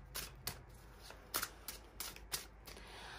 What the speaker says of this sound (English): I need to draw another card for this one